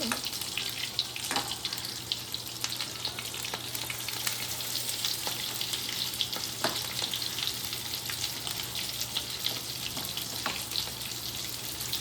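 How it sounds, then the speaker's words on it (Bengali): Food fries in a pan in a home kitchen with a soft, continuous sizzle, broken now and then by light clinks and scrapes of a utensil stirring, all fairly quiet and with no talking. "সব একসঙ্গে ভেজে তুলি"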